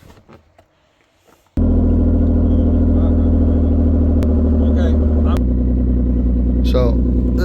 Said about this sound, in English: It's really loud. The exhaust on this rotted out in a real bad spot.